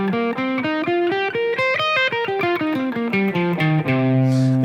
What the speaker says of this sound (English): the last step is to just throw in your minor pentatonic scale, the 6-1 shape that everybody knows